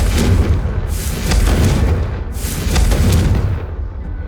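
Repeated booming blasts of the Confringo exploding spell from the video game Hogwarts Legacy, three heavy explosions in close succession, loud and rumbling, with no talking.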